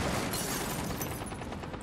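Rainbow Six Siege gunfire rattles out in a dense, continuous in-game burst of overlapping shots, loud and close, with no talk over it.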